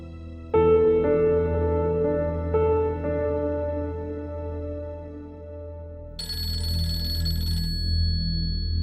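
An outgoing phone call rings back with repeated tonal ring pulses, loud and close, followed by a brighter, higher ringtone-like tone; no talk over it.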